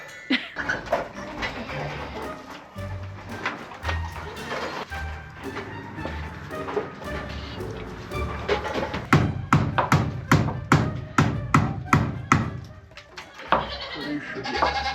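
Goats bleating inside a newly expanded farm barn, with repeated loud, close calls overlapping and building toward the end, while people talk in the background.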